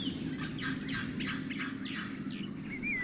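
Baby birds in a crowded nest cheep as parent birds arrive with food, a run of quick high chirps repeating over a low steady background hum.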